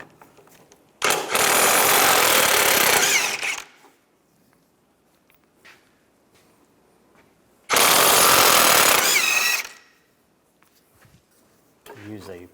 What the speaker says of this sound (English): Take a 21mm socket, take these two nuts off.